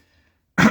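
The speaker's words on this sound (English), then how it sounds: "Sorry, got a bit of a cough here." Brief silence, then a single short, sharp cough bursts out close up at the very end.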